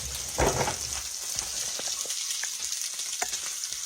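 Catfish pan frying in hot oil, a close, steady crackling sizzle with a brief louder burst near the start and scattered pops throughout, no talking.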